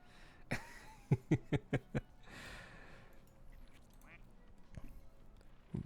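Plastic toy ducks squeaked in an ASMR session, giving a quick run of five sharp squeaky quacks close to the microphone, then quieter handling and faint soft sounds.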